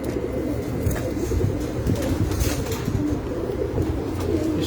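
A pigeon coos in low rolling calls close by, with brief bursts of wing flapping breaking through a busy rooftop murmur; no one speaks.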